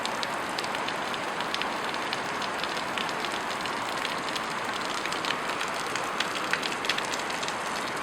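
Heavy rain from a rainstorm pours in a dense, steady hiss, with rapid drops pattering on a hard surface close by, constant and loud throughout with no talking.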